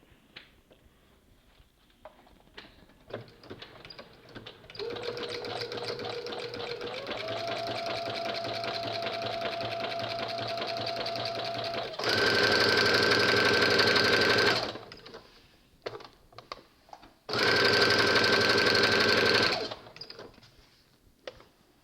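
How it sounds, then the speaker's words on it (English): A home sewing machine stitches around a beginner knit dress seam, starting with a low hum that rises in speed, then two loud bursts of fast stitching. Short pauses separate the bursts, with faint handling clicks before and after. "we're going to sew all the way around, beginning and ending with a back stitch"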